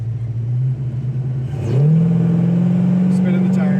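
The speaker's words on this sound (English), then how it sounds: "Spinning the tires here a little," A 1967 Pontiac GTO tribute classic muscle car idles with a low burble, then its engine revs sharply upward to about 3,000 RPM, spinning the tires a little, and holds a steady, loud elevated drone.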